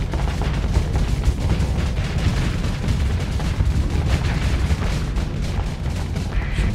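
Ship weapons fire in Starsector space combat, a dense continuous barrage of booming shots and rapid gunfire layered over a heavy rumble, loud and steady throughout.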